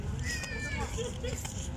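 A cat gives a couple of soft, high meows close by while people talk over it.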